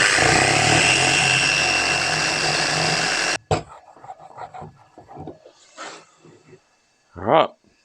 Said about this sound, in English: Just going to use the polisher, some Maguire's Scratch X to try and bring them up.